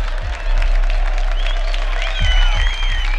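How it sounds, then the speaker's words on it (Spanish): A concert audience gives the band an ovation, with a loud, steady wash of crowd noise, cheering and whistles, and a few deep thumps running under it. "es justamente la ovación del público"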